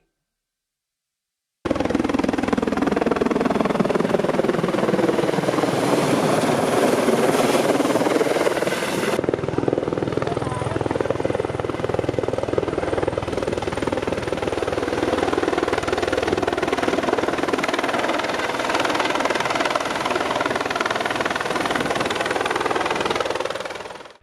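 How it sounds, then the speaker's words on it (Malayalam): A helicopter's loud, throbbing rotor and engine roar fills the whole stretch, steady and close, after a brief silent start, during joy rides at a village festival in Rajakkad, Kerala. "രാജാക്കാട് ഗ്രാമത്തിൽ പ്രകമ്പനം കൊള്ളിച്ച ഹെലികോപ്റ്റർ സവാരി"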